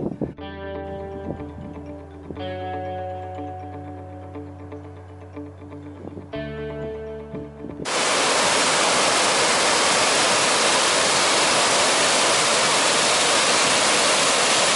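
The Downs Fork creek crossing on a Wyoming high-point backpacking trip, where stream water rushes as a loud, steady broadband roar that fills the second half. Tonal music-like notes come first; there is no talk.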